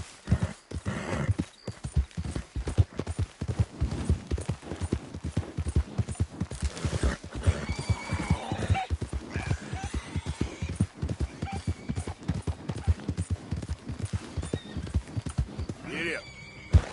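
Horse hooves clip-clopping at a steady gallop with occasional neighs in the Red Dead Redemption 2 video game, close and continuous, with a voice urging the horse on throughout.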